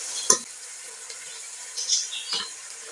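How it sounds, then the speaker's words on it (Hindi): Chicken sizzles in a pan with lightly browned onions and salt, a soft steady frying hiss broken by a few clinks and scrapes of stirring. "चिकन को भून लेंगे।"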